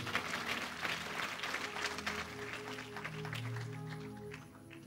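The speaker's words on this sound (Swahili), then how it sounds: "Mpe Yesu makofi kama unakubali." Congregation clapping together in a church during a Swahili sermon, a dense, steady wash of applause filling the room, with some voices and a low sustained tone underneath.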